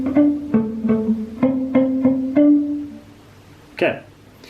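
A palm-muted guitar plays a variation of the BTS Pied Piper riff, about seven short damped notes in a steady pattern, close and clear, then a brief bit of speech after the notes end.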